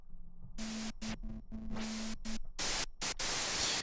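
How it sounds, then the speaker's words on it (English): An Arturia MicroFreak synthesizer's white noise oscillator hisses in loud broadband bursts, switching on and off in a choppy pattern with short gaps, some bursts carrying a faint low tone and the last ones longer and brighter. "if we find maybe like a white noise oscillator"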